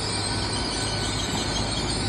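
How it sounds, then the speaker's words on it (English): A train arrives at Exeter St David's station with a loud, steady close-up rumble and low mechanical drone, no voices over it. "this train is actually coming in, not coming out."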